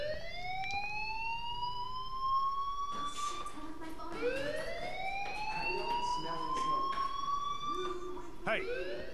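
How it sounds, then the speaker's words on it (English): A fire alarm wails in the video game Life is Strange, its rising and falling tones sweeping repeatedly at moderate volume while other siren-like tones overlap. "Do you hear that fire alarm? That means you should be outside."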